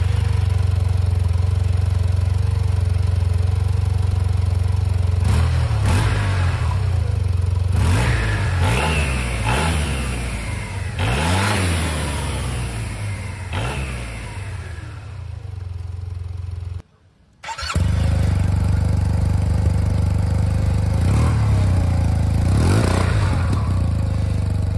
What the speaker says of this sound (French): je vous propose d'abord de démarrer pour écouter l'échappement d'origine